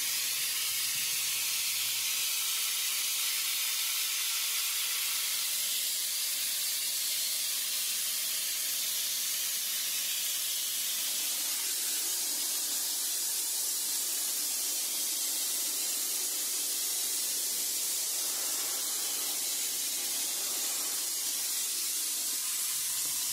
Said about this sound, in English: Here we are grit blasting the I-beams to remove all rust, corrosion, and prior coatings.